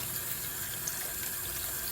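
Hot water runs steadily from a sink tap while makeup brushes are cleaned, a constant close hiss and splash that stays even throughout, with no talking.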